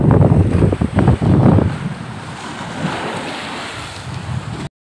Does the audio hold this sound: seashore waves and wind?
yes